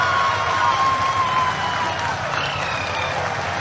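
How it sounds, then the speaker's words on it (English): A crowd applauds, giving a steady wash of clapping at moderate distance with a faint tone running underneath. "People are applauding."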